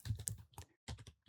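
Short burst of typing on a computer keyboard, several close keystrokes in quick succession with a brief pause between them, quiet and alone.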